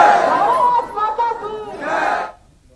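Crowd on a Hindu procession march chanting nationalist slogans in unison, a loud massed roar of voices in two swelling bursts that then cuts off.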